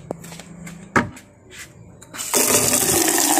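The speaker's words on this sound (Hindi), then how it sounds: "10 किलो पानी डालना है मेरे को यहाँ पर।" Water poured from a container into a plant's soil outdoors, splashing loudly and steadily after a few brief knocks and thuds, a sustained gush filling the last second of the clip.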